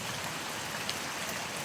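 Steady rain falls on a pineapple farm in the Philippines, making an even, continuous hiss of drops hitting surfaces at moderate loudness, with no voices.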